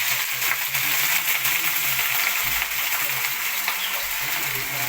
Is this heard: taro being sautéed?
yes